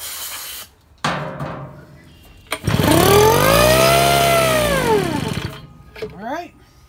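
A vintage Billy Goat backpack blower engine is cranked and briefly catches, giving a loud rising and falling mechanical roar for a couple of seconds before cutting out, with short pull-cord bursts around it.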